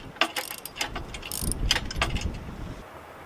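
A ratchet clicks rapidly in short bursts while nuts are tightened down onto a U-bolt for a tractor canopy mount, with metallic handling noise close by.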